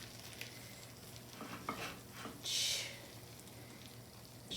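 Ham dinner that has baked about 45 minutes until bubbly and golden brown, sizzling and crackling as it is spooned out, with soft scraping stirs and a brief louder hiss near the middle, fairly quiet and close.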